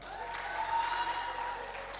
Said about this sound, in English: can you give a round of applause to them?